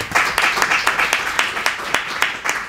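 Audience at a privacy conference panel applauding: a modest round of fairly sparse, rhythmic claps, close and even, lasting a few seconds.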